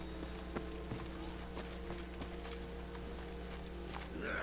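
Roach the horse trotting in The Witcher 3, hooves clip-clopping in a steady rhythm over a constant low game ambience hum.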